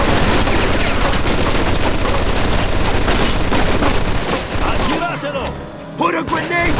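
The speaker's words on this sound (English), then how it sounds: "Looks like we found the machine gun!" Machine gun fire in the video game Mafia 2: loud, rapid, dense bursts for about five seconds before thinning out, with voices shouting amid the shooting.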